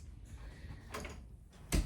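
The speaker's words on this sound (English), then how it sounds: "hold on while I open the door" A door opens indoors with two brief close rustling scrapes followed by a louder knock or thud at the end, all quiet and short.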